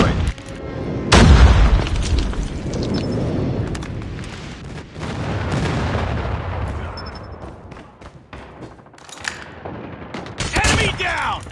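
Video game battle with heavy gunfire and explosions, a big booming blast early followed by rolling bursts and rumbling detonations, loud and layered throughout.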